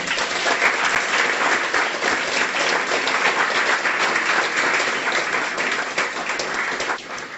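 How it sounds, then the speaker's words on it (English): An audience at a guide dog school graduation gives a warm round of applause for a class supervisor, a full, continuous roar of clapping that holds steady and eases slightly at the end. "I just want to have a very warm round of applause for Ben as class supervisor"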